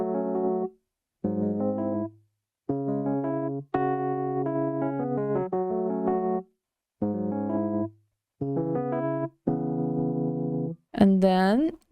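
An electric piano recreation of the intro of a song: a run of soft sustained chords separated by brief pauses, close and clear, ending in a brighter rising swell, with no talk.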